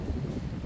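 Wind gusting across a chapel cemetery on New Year's Eve, a brief low rushing buffet against the microphone with no other sounds.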